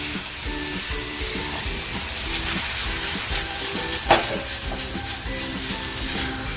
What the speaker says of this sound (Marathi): आपल्याला हे जास्त फ्राय नाही करायचे फक्त हलकंसं फ्राय करून बाजूला काढून घ्यायचे